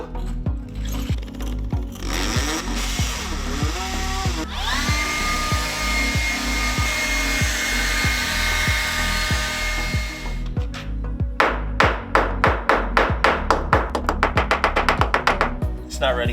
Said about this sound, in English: So I'm gonna drill right there, and the electrical goes this way, right through.